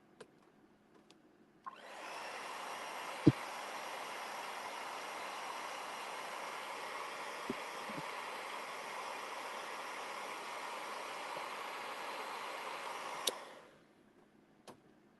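A dryer blows a steady, even rushing hiss over fresh watercolor paint for about twelve seconds, switching on and off with small clicks, close and without talk.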